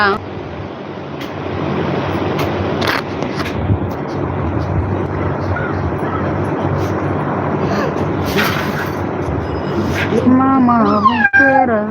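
A cat meows several times in a rising, wavering call near the end, heard over steady background noise and household talk.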